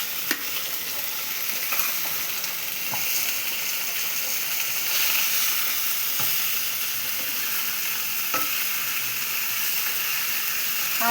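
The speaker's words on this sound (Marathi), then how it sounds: "आपण मसाला परतायला टाकलेला आहे." Masala sizzling and frying in hot oil for a fish curry with fresh coconut, a steady close hiss and crackle with occasional stirring scrapes throughout.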